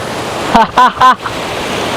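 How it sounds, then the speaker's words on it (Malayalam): A fast river rushing below gives a steady broadband roar, and a voice briefly breaks in over it with a few short sounds. "താഴോട്ട് നോക്കുമ്പോഴേക്ക് നല്ല കൊത്തി ഒലിച്ചു പോവാണ് പുഴ"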